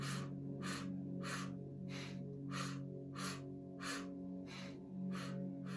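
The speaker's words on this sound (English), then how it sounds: "3 strokes in through the mouth, 1 stroke out through the nose" Rapid rhythmic breaths, Kundalini-style sharp strokes drawn in through the mouth, repeating evenly about nine times over a steady low hum, close and fairly soft with no talk.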